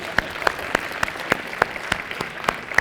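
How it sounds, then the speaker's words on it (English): Audience applause in a lecture hall at IIT, a scattered, thin round of claps with distinct individual hand strikes at an uneven rhythm, moderately close, with no talking over it. "You may clap."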